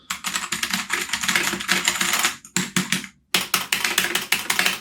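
Rapid, clacky typing on a Rampage KB-R18 Myth budget mechanical keyboard with a plastic body, loud and close, with a couple of brief pauses between bursts of keystrokes.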